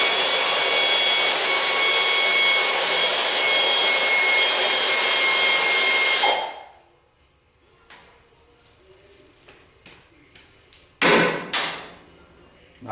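A power tool whirs loud and steady for about six seconds while removing 5/8 inch transmission mount bolts from under a vehicle, then stops, followed by faint clanks and a short burst of metallic rattling.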